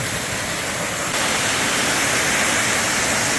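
Cascading waterfalls pour down a mountainside along the Appalachian Trail in New Hampshire or Maine, a steady, loud, broadband rush of falling water filling the whole stretch without a break.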